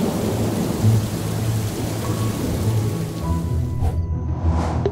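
Steady heavy rain with rumbling thunder from a thunderstorm, a continuous wash of downpour with a low roll that fades near the end.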